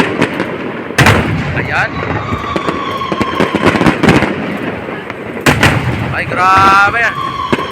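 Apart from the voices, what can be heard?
fireworks display exploding at Esplanade Pasig River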